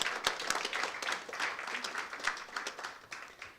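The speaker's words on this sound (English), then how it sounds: "Let's give them a round of applause." An audience at an Education Week event claps in a round of applause, a dense wash of many hands at moderate volume with a few sharper individual claps standing out, continuing steadily without speech.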